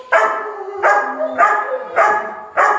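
A dog barks repeatedly during drive training, five loud, close barks in a steady rhythm with whiny tonal edges, no voices in between.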